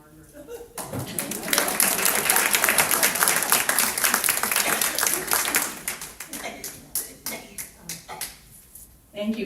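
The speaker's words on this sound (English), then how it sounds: "We can clap for Margaret." Audience at a church feast-day celebration clapping, a loud burst of many hands that swells quickly, then thins into scattered individual claps with voices mixed in.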